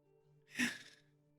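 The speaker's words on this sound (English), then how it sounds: "Walks into the room, he starts sneezing." A single sneeze, a sharp burst that rises and fades within about half a second, sounds over a quiet steady hum during a tabletop role-playing session.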